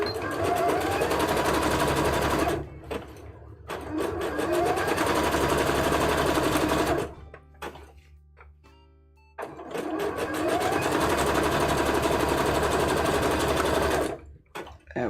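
A sewing machine runs in long continuous bursts, zigzag stitching around the inside of garment arms, with brief pauses between runs and a longer quiet gap near the middle; no talk.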